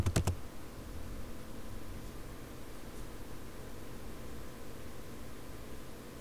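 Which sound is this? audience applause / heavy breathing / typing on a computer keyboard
typing on a computer keyboard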